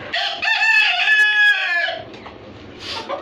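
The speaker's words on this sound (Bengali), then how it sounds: "এই যে ভিতরে যে মোরগটা দেখতেছেন, এটা ক্রস" A caged rooster, a cross between a white breed and a local desi chicken on a small farm, crows loudly and close for about two seconds, then softer clucks follow.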